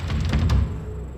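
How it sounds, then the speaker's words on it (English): A door opening in the horror game Monstrum, a short muffled thud and knock with a faint clatter, then a quiet fading tail, heard alone. "Alright, door opened."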